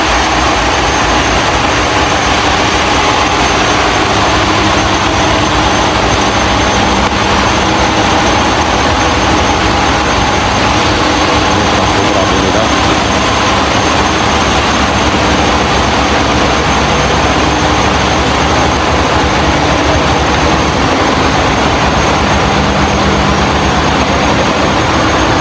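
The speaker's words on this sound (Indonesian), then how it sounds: "Nah inilah tempat mesin PLN yang ada di dalam Batu Kundur." Generator engines of the PLN power plant at Batu Kundur on Pulau Kundur run inside the engine building, a loud, steady, dense mechanical roar with a constant low drone that holds unchanged throughout, no voices.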